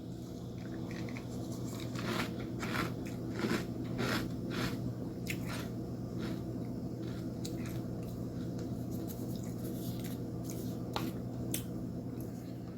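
Close-up crunchy chewing of Franken Berry, Boo Berry or Count Chocula cereal, with irregular crisp bites and crunches over a low steady background hum.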